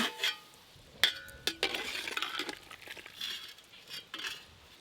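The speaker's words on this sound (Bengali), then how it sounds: "চাপা খুলে দেখি ডাল সেদ্ধ হলো কিনা।" A pot lid clinks open, then a metal spoon scrapes and taps against the pot while mung dal is stirred: a few sharp clanks followed by soft, uneven scraping, faint and close, with no talk.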